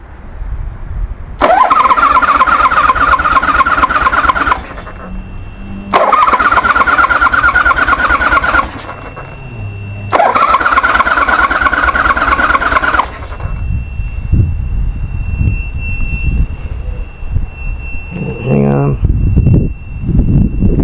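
A 1973 Harley Sportster fitted with CV40 carburetors cranks over with a loud whirring starter in three long attempts, then catches and runs with a rough, uneven idle, with voices speaking over it.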